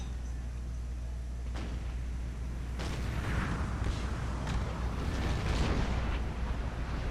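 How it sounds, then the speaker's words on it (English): Cannon fire booms in a Civil War strategy game, several dull thuds and crackling blasts scattered over a steady low rumble, with a voice talking over the battle. "I am pulling off cannon shots"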